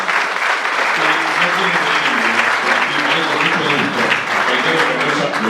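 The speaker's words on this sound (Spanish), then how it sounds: "Nuevamente lo despedimos a Víctor Hugo Morales con un gran aplauso." Large crowd applauding a farewell to Víctor Hugo Morales at Baradero's 400th anniversary celebration, a dense steady roar of many hands clapping that holds at full strength throughout, with murmuring voices mixed in.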